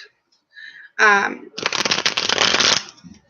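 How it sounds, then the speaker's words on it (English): Tarot cards riffle-shuffled in a dense, rapid flutter lasting over a second, preceded by brief soft voice sounds and a short clatter. "Let me shuffle these really quick"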